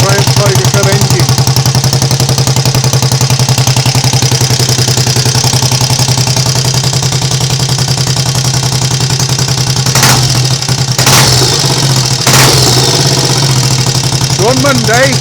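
A Triumph Tiger Cub motorcycle engine runs steadily up close, a loud, even, rapid chugging that continues throughout with brief clatters near the end.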